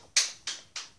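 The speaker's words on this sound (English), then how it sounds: "clapping" Three sharp, separate claps or snaps spaced about a third of a second apart, crisp and close, with quiet between them and no talking.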